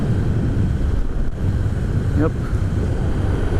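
Enertion Raptor electric skateboard ridden at full throttle on loose trucks, a steady rushing roar of wheels and wind buffeting the microphone throughout, with a brief spoken word from the rider partway through.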